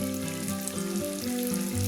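Tofu sizzles steadily as it fries in hot oil, a crackling hiss under a background of faint tonal music, close and continuous.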